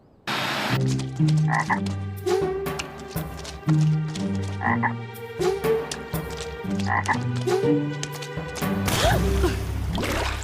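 Loud, repeated frog croaks in a rhythmic, overlapping chorus, close by and continuous, with no voices.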